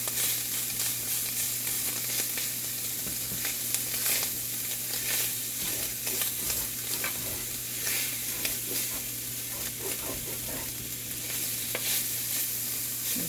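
Sausage frying into crumbles in a hot cast iron skillet, a continuous dense sizzle with scattered crackles and pops, broken up by the scrape and scuffle of stirring.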